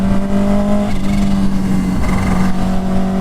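A Kawasaki Ninja H2 motorcycle engine styled as an H2R, rated near 300 hp, runs with a steady, loud, low throbbing drone and a slight flutter; the sound stays close and unbroken, with no voices.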